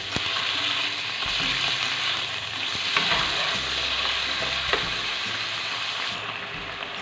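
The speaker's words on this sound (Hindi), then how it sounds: "चिकन को भी 1 से 2 मिनट के लिए हम सौते करेंगे।" Small cubes of chicken sauté in a hot pan, giving a steady broadband sizzle with occasional scraping clicks from stirring, close and continuous throughout.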